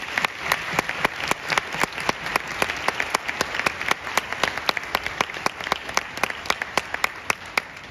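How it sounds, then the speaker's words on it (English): An audience at an honor band festival claps steadily and fairly close, sharp hand claps repeating evenly for several seconds with no voices over them. "Let's give everybody, those folks, a round of applause."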